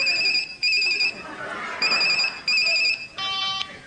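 Telephone ringing in a radio comedy panel show, with repeated electronic trills in short bursts and brief gaps, ending on a different tone, over faint background murmur.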